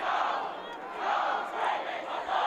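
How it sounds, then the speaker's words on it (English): Spectators at a schools rugby match between Southport and Nudgee, 2007, cheer and roar, a steady distant swell of crowd noise that rises and falls in waves. "you can just hear the crowd starting to lift"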